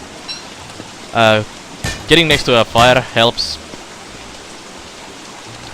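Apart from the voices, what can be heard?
rain falling in the video game Don't Starve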